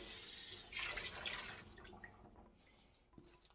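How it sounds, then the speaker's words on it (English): Running tap water splashes and sloshes in a container as it is rinsed in a kitchen sink, close and quiet, then tapers off into drips and a few light clinks, with no talking. "Now I'm gonna rinse out this container."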